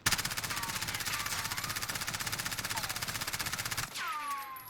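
Automatic gunfire in a console shooter, with an anti-recoil mod being tested, rattles out as a loud, rapid and perfectly even burst for nearly four seconds. It then cuts off, leaving a brief ringing, scraping tail.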